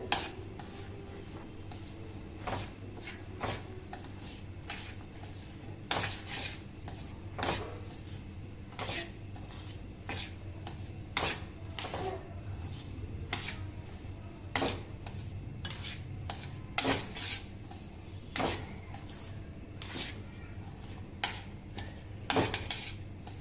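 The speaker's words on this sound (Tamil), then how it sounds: "ரவையை போட்டு வாசனை வர வறுத்தா போதும், சிவக்கக்கூடாது." Semolina being dry-roasted in a pan alongside fried cashews, a spoon repeatedly scraping and clinking against the metal in an uneven rhythm over a soft steady hiss, close and alone with no talk.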